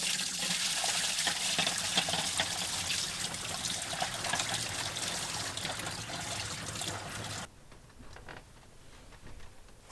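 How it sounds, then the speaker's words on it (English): Water from a freely movable shower basin poured into the sink drain of a van, a steady loud trickling stream that runs for several seconds, then cuts off, leaving faint dripping behind. "get the freely movable shower basin to pour all the shower water into the drain"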